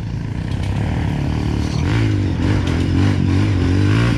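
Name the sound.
trail motorcycle accelerating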